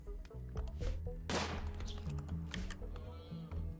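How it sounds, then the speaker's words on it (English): Gunfire in the video game RimWorld during a hunt for a tortoise near an old abandoned ruin: a rapid burst of sharp cracks over a steady game soundtrack, moderately loud. "I heard gunshots."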